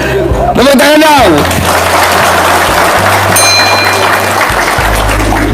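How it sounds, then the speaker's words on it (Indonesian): A crowd applauds steadily for several seconds, a dense wash of clapping with a voice and some musical tones briefly over it. "Tepuk tangan dong."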